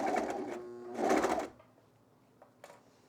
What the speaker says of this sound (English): we're going to sew just a little tiny bit, pause, and then we're going to stretch our waistband to match the pant